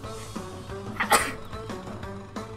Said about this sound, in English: I'm gonna sneeze as well.